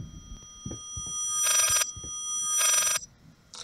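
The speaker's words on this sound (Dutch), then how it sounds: "Een op hol geslagen telefoon?" An old telephone bell rings wildly in the horror game Layers of Fear, two loud shrill bursts over a steady electronic hum and a few low thuds.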